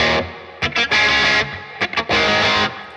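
Electric guitar played through a Bad Cat Black Cat combo amplifier, strumming open chords with light drive and reverb; loud, full strums ring out in several bursts with brief gaps between them, no voice present.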